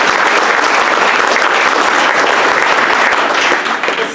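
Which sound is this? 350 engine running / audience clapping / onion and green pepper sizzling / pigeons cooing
audience clapping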